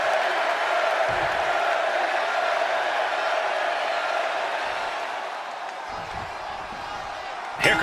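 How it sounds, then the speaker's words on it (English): A capacity crowd at a live wrestling event roars in a steady wash of cheering and noise, with a commentator talking over it and a sharp thud near the end. "we got Eddie Guerrero in front of this capacity crowd"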